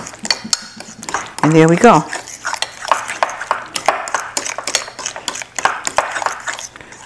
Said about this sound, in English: Get it in here and stir it all up.